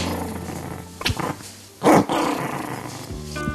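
A tiny puppy of the world's smallest dog breed growls in two short, rough bursts over a steady background hum, fairly close and moderately loud, with no talking.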